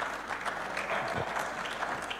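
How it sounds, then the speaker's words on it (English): A crowd at a youth seminar applauds in a steady, dense wash of clapping heard from a distance, with faint voices mixed in. "Round of applause."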